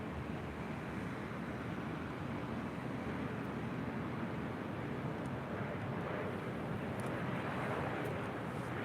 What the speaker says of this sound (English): we do have that FedEx Airbus A300 now taking off